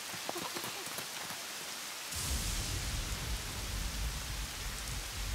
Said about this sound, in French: Je crois qu'il va pleuvoir pendant encore un bon moment.